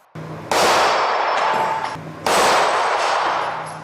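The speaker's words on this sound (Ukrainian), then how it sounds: "Олександр Пискун на правах почесного гостя турніру, теж стріляв по цілях" Two sharp, loud pistol shots at targets ring out about two seconds apart at a shooting tournament, each with a bright metallic ring that decays slowly.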